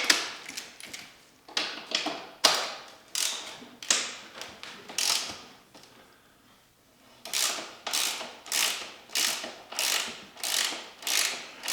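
A ratchet clicks in repeated bursts while removing the bottom shock bolt on a 2024 KTM 500 XW-F motorcycle, close and crisp, with a brief pause midway before the rhythmic clicking resumes.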